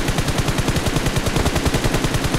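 Rapid automatic gunfire in the video game PUBG during a tournament, a fast steady burst of shots lasting over two seconds, loud and dense.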